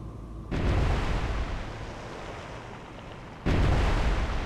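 Naval guns firing at ships in the Cold Waters naval combat game, with a Ticonderoga cruiser facing Kirov, Kashin and Krivak warships: two loud, heavy booming salvos with a long rumbling roll between them, no talk.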